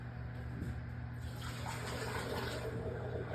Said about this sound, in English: You want to rinse all your toys off